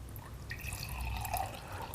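Tap water is poured onto sesame oil, giving a soft, steady trickle and faint drips at close range that continue the whole time, with no talking.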